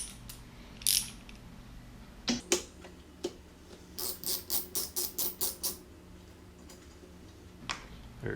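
A ratchet wrench turning 14 mm bolts off a strut bar on a 2005-2010 Scion tC, a run of about ten quick clicks in steady rhythm plus a few isolated taps and clacks, close and fairly quiet with no talking.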